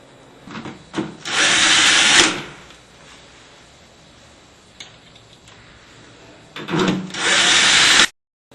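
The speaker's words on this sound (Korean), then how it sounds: "나사 체결은 전동 드라이버의 힘이 너무 세지 않게 하시고" An electric screwdriver drives screws while a Miele door lock is installed, with two loud whirring bursts separated by quiet handling clicks and faint rustle, the second burst cutting off abruptly.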